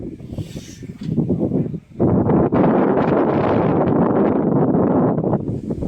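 Wind buffets the microphone in loud, continuous rumbling gusts, briefly dipping before roaring back steadily.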